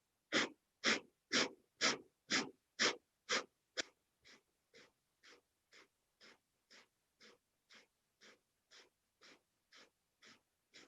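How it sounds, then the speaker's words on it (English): Breath of fire yoga breathing during a vinyasa flow class: a steady train of rapid, forceful nasal exhalations, about two per second, loud and close at first, then continuing at the same pace but much softer, with no talking. "Long, deep breathing or breath of fire."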